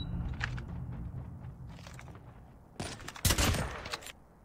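Gunfire in a video game during a one-on-one match: several bursts of sharp shots, mostly in the second half, with the loudest cluster near the end over a low, busy game background.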